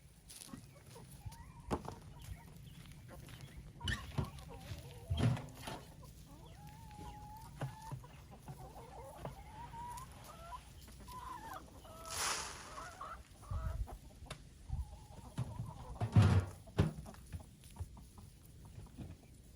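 Hens and small chicks clucking and peeping in a backyard flock, a steady stream of soft clucks and chirps close by with occasional louder squawks, no speech.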